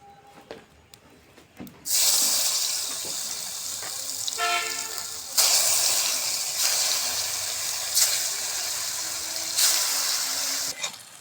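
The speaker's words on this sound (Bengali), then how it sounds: "দেখুন এই তেলে ভাজে নেব।" Thin slices of raw green banana fry in hot oil, a loud continuous bubbling hiss that starts abruptly after a quiet moment and keeps going, with brief faint voice-like tones.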